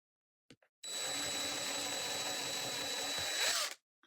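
A power drill whirs in one sustained burst of about three seconds, drilling holes in a miniature craft house, close and loud, preceded by a couple of small clicks.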